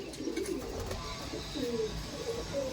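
Old Madras pigeons coo in a home loft, soft low calls rising and falling in repeated phrases at moderate distance over a constant hiss of background noise.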